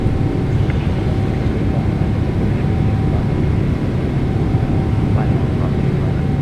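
A PMDG 777-200ER airliner climbing away in a flight simulator cockpit, its jet engines giving off a loud, constant low roar with a faint steady tone above it. The engine noise fills the whole stretch without a break.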